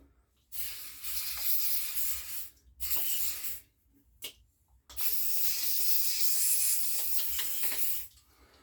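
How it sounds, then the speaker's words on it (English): Three bursts of aerosol carb cleaner spraying into a McCulloch CS35 chainsaw, a steady hiss up close; two short blasts followed by a longer sustained spray. "we'll give that now a good blast out with the carb spray"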